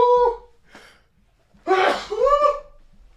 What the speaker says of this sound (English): Had to sneeze there.